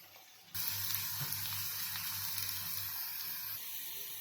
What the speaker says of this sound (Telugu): మంచిగా శుభ్రం చేసి పెట్టుకున్న నల్లేరు ముక్కల్ని కూడా ఆయిల్లో ఫ్రై చేద్దాం.